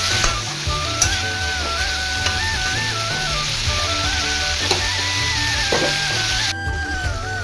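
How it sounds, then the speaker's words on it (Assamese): Pork and potatoes fry in a pan with a steady, loud sizzle and occasional stirring scrapes, with no talk over the cooking. "আলু দি দিয়া আছে যিহেতু মাংসটো ফ্ৰাই হৈ গৈছে"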